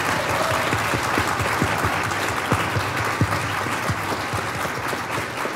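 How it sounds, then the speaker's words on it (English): Audience at a Ward 1 Calgary municipal election candidate forum applauds the candidates, a dense, steady wash of clapping from a room full of people with a few sharper individual claps standing out, alone without speech. "so let's give them a round of applause."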